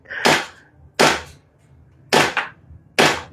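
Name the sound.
gunshot from a Desert Eagle pistol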